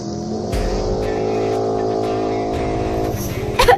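Engine of a costly international-brand motorbike revving loudly as it pulls up, a steady close drone with rising throttle bursts and a sharp flare at the end.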